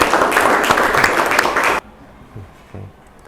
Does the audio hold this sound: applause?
yes